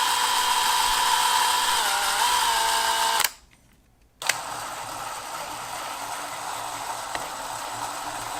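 A drill press bores a hole for a set screw in a wheel handle, a loud steady whine that stops abruptly for about a second, then resumes with a click and continues evenly.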